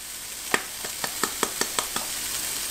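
Finely chopped onion in a pan over medium heat, a steady soft sizzle with a series of evenly spaced sharp taps as it is stirred and patted down, no talking.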